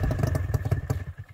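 An old Ockelbo 8000 snowmobile engine, a two-stroke sled woken after a summer of storage, runs with a close, uneven, throbbing putter and clattering pulses over about a second.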